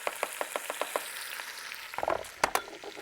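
Chopped onion tips into a hot frying pan for a Neapolitan meat sauce, setting off a close, crackling sizzle with a run of sharp, rhythmic clicks and a louder clatter near the end; nobody speaks.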